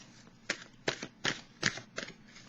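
Oracle cards are handled and laid down in a quiet room, five or six soft, papery slaps and flicks at irregular intervals, close and faint.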